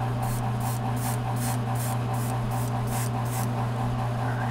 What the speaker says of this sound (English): So I'm going to be spraying in that direction.